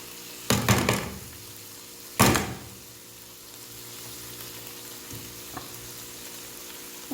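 Tuna mixture stirred in a hot pan for a toasted tuna sandwich: two short bursts of scraping and frying crackle, then a quiet, low background hiss with a faint tap near the end.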